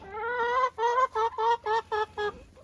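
A hen gives a drawn-out call, then six quick clucks in a choppy rhythm, loud and close.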